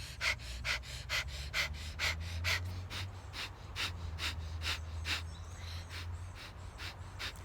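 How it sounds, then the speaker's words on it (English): Rapid fire breath with the belly pumping in and out, a fast steady train of sharp nasal exhales repeating about every third of a second, close and strong, over a low background hum. "during our fire breath, we are going to be pumping our bellies in and out"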